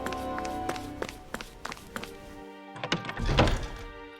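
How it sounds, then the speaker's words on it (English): Hammers bang away in the Tales of Arise video game in repeated sharp metallic knocks at an irregular rhythm, joined by thumping impacts over a steady musical background. No one speaks. "I always love the sound of hammers banging away."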